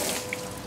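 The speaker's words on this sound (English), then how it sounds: "I'm going to turn the water off" Water running from an outdoor tap in a brief, steady splash, close and moderately loud.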